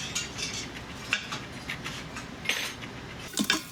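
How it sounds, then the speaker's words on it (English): A whisk scraping and clinking against the bottom of an Instant Pot while loosening burnt bits, light irregular metallic taps and scrapes, close and fairly quiet, with no talk. "you're going to want to whisk that in"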